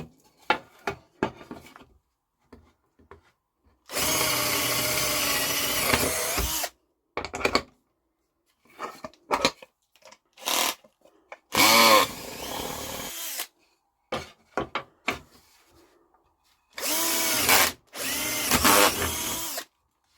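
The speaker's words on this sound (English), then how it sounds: "I drilled some holes so I could make the cuts on the scroll saw." A power drill bores holes in wood for scroll saw cuts, whining in several loud bursts of varying length, separated by quiet gaps with small knocks and handling clicks.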